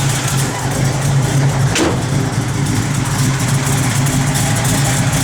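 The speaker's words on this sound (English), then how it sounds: "A little bit of exhaust leak there, you can hear it." A 1967 Chevrolet Chevelle SS sits idling with a small exhaust leak, a steady loud low rumble running throughout with a brief spike near the start.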